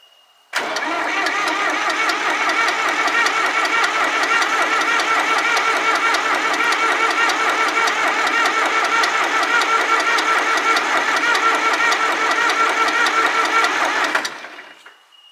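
An abandoned diesel engine catches abruptly and runs loud and steady with a rough, knocking clatter for about fourteen seconds before it winds down and stops.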